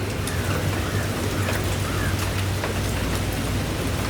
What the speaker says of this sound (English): Rain has started.